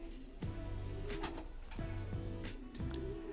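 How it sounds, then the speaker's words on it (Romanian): Racing pigeon cooing inside a loft, three soft repeated coo phrases with faint rustling between them, quiet and close. "o să vă arăt porumbelul meu de suflet"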